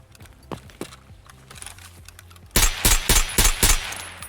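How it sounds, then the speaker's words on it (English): Rapid bursts of gunfire from weapons in Escape from Tarkov ring out loud and close in the second half, after scattered quieter clicks and thumps. "I can test out my guns."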